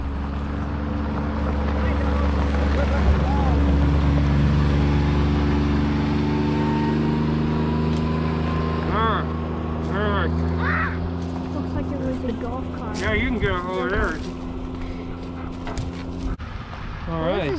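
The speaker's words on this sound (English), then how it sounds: "sounds like there's a car coming up behind me" A car engine hums and grows steadily louder from behind amid wind noise beside a creek, while voices and a few sharp dog barks break in near the end.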